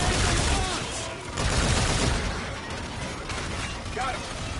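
A PS4 shooter firefight rattles with continuous gunfire and dull bursts that may be grenades, dense and loud at first, then easing slightly, while voices talk over the combat.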